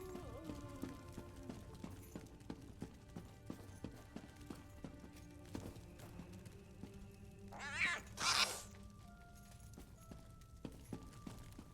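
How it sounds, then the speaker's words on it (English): In The Elder Scrolls Online, a cat lets out two short, fairly close meows over a quiet backdrop of steady clip-clopping hooves and faint ambience. "Not another cat."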